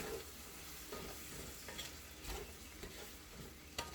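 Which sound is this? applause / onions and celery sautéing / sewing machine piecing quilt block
onions and celery sautéing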